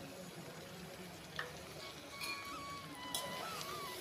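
Spiced masala with beaten sour yogurt and a little sugar being mixed and fried in a pan, a steady low sizzle throughout with faint scrapes of a spoon stirring, no talk.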